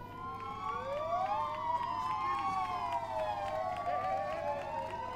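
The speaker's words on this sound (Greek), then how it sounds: "οι σιρήνες των πυροσβεστικών" Several fire engine sirens wail together and overlap, their rising and falling tones weaving over a low steady hum at moderate distance with no talking.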